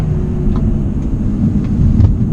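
An Audi A4 Quattro with all-wheel drive powers out of a tight turn on a winding mountain road, its engine a loud, steady, close drone that swells slightly without a break.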